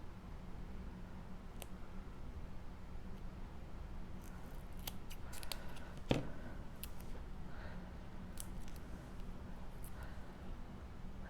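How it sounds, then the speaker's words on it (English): Scissors snip something in half, several quick, crisp, close cuts in a quiet room, with one sharp snap in the middle. "I'm going to cut in half."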